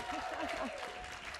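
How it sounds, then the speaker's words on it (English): Applause from the audience at a World Economic Forum plenary session in Peacock Hall, a soft, fairly distant wash of clapping lasting only a moment, with a faint voice partly over it. "Let's give her a round of applause."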